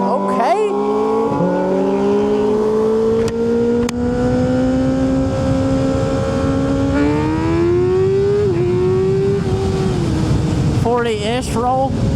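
Suzuki Hayabusa motorcycle engine revving under way, a loud continuous drone whose pitch climbs and dips with throttle changes, close to the microphone, with wind rush beneath it.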